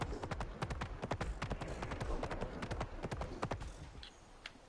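Horse hooves clip-clop steadily in the video game Palia, a quick uneven rhythm of sharp close hoofbeats on the ground that eases off near the end.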